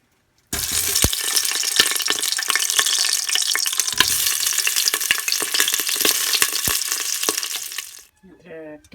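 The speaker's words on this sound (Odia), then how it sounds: "ଆଳୁ ଭାଜିଦେବା।" Potatoes dropped into hot oil for an Odia mutton curry, a loud, dense sizzle erupting suddenly and holding steady for several seconds with scattered pops and crackles, then cutting out near the end.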